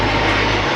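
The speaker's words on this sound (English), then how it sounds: "Airplane." An airplane engine roaring steadily and loud, close overhead, a constant drone outdoors near a busy brewery in Sydney with no talk over it.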